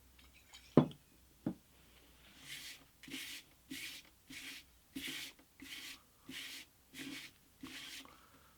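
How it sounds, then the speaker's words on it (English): A cloth soaked in alcohol is rubbed back and forth over the shellac finish of an antique parlour guitar. The strokes come as a steady, rhythmic series of close swishing scrubs, each about half a second long, after a couple of sharp knocks at the start. "I'm going to have to keep this moving because the alcohol is dissolving the shellac"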